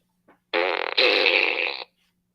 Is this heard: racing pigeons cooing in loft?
no